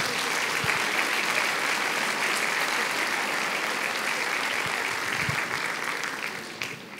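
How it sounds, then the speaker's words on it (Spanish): Sustained applause from a large church congregation, steady and loud throughout, tapering slightly toward the end. "Den un fuerte aplauso al Señor,"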